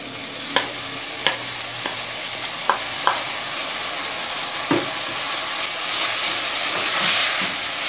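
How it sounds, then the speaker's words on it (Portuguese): Broccoli sautéing with fried onion in a pan for a creamy pasta sauce hisses steadily and close, punctuated by a handful of sharp utensil taps against the pan early on. "a gente já pode colocar o brócolis para refogar junto"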